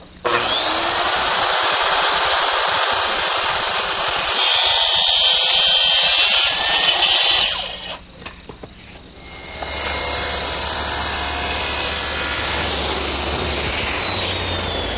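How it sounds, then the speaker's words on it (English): Circular saw ripping an angled cut through wood clamped against a straight edge, loud and close: a sustained high whine for about eight seconds, a brief dip as the blade eases, then a second long steady cut. "I'm going to use my circular saw up against it"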